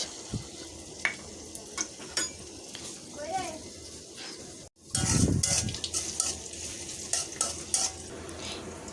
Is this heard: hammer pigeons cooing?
no